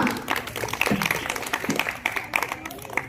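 Audience clapping for the pastor at a church annual day celebration: a short stretch of scattered, uneven hand claps from a modest crowd, moderately loud.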